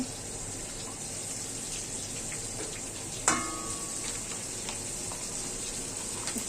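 Oil heating in a wok for cooking hilsa fish gives a steady, even sizzling hiss throughout, with one brief clink partway through.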